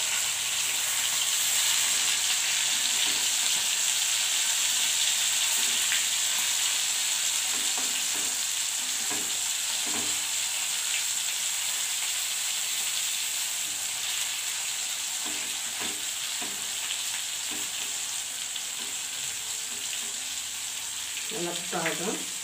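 Kerala style spicy fish frying in hot oil, a loud continuous crackling sizzle with intermittent spatter and turning clatters, and a brief clink near the end.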